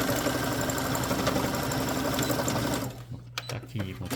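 A sewing machine stitches steadily in free-arm mode, its fast even whirring close and loud for nearly three seconds before stopping, leaving only brief handling noises.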